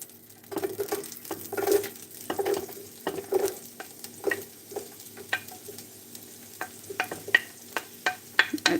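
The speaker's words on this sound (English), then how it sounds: "So I'll just go ahead and start frying the onion." Chopped onion fries in a heated pot with little oil, crackling and sizzling softly as a utensil scrapes and stirs it in irregular bursts, close and fairly quiet with no talking.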